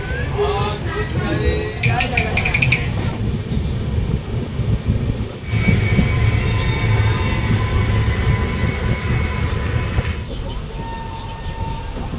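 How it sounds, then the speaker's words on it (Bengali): A train rolls along rails near Cuttack in Odisha, giving a steady loud rumble throughout with a brief higher rattle early on, and voices can be heard faintly under it. "এই ট্রেনটা যাবে।"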